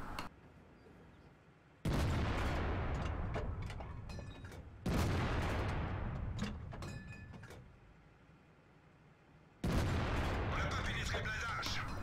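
Tank cannon fire in a World of Tanks replay lands as three heavy booms, each a sudden loud blast trailing into a long rumbling decay, with faint voice beneath.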